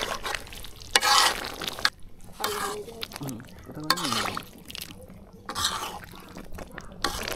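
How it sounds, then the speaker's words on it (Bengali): Duck meat sautéing slowly in oil over low heat, with soft intermittent sizzling and stirring scrapes beneath frequent talk, near and moderately quiet. "তাই আমরা মৃদু মৃদু জালে সময় নিয়ে আগে তেলে কষাচ্ছি"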